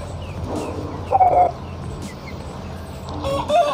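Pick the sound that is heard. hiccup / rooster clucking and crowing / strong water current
rooster clucking and crowing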